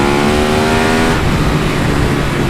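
Loud, close KTM 1290 Super Duke R motorcycle engine under riding load, a steady high-revving roar that holds tone for about a second, then breaks into a rougher, gravelly rush with wind noise as the pitch drops off.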